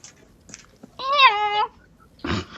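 A house cat gives one clear, drawn-out meow close by, framed by faint rustles and a short breathy noise afterward, with no talking over it.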